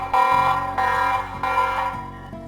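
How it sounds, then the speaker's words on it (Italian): A Tapo TP-Link security camera's speaker sounds a loud electronic alarm siren, a harsh repeating tone pulsing in roughly regular cycles, close and alone with no voices. "come una sirena di un antifurto con segnalazione acustica e visiva"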